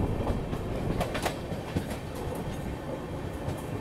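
Paschim Express passenger train running on rails in India, a steady loud rumble with faint wheel clatter and occasional clicks, heard from on board with no talking.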